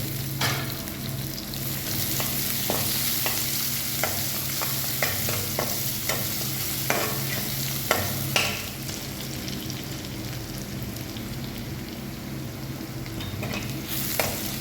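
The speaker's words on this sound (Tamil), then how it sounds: "வெங்காயம் வதங்கிட்டு இப்போ பூண்டு சேர்த்துருக்காங்க." Chopped onion and garlic sauté in a pan for brinjal kuzhambu: a continuous bright sizzle runs throughout, broken by repeated clicks and scrapes of a spoon stirring against the pan, with no talking.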